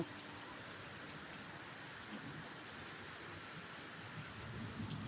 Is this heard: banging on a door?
no